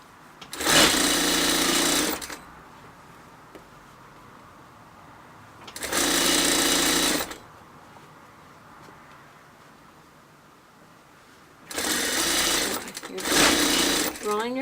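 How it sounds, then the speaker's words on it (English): Sewing machine stitching along an elastic waistband casing, running in three loud bursts of steady mechanical whirring separated by pauses, the last burst split in two, with light handling noise between runs. "allow me to sew right up close to the edge of the elastic without actually stitching it into the fabric"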